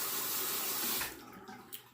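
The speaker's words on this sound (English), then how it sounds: "drain that water" Water running and gurgling as a bathroom sink drains after shaving lather, a steady close rush for about a second before it thins into sparse trickles and drips.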